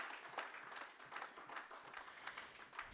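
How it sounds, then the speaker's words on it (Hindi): Moderate applause from an audience at a formal event in India, steady scattered clapping throughout, somewhat distant. "एक बार जोरदार तालियां इनके लिए."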